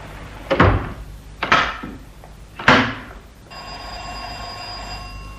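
A telephone bell rings in short loud bursts, three rings spaced about a second apart, followed by a steady electronic tone that holds to the end.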